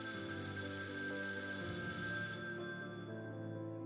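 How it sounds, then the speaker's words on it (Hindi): An old telephone bell rings in a continuous metallic trill, then fades away, with no voices. "ये आवाज़ उसी पुराने टेलीफोन से आ रही थी।"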